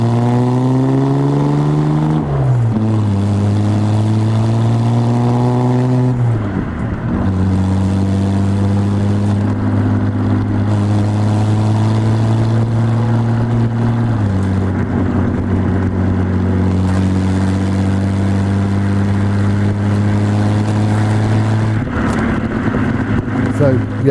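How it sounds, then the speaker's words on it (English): A 1964 Austin Healey 3000 MkIII BJ8 straight-six engine runs steadily and close, its tone stepping up and down with revs through the whole stretch, while people talk over it. "the noise which sort of is a bit like the sound of a Merlin engine."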